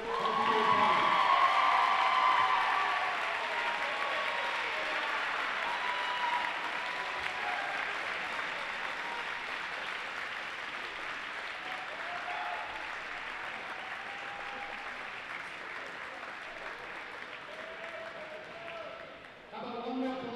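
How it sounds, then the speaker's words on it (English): Crowd applause at a high school basketball game fills the gym, loud and sustained at first then easing into steady clapping with scattered cheers, an announcer's voice coming over it. "How about one more collective round of applause for 2 special young women and wonderful basketball players."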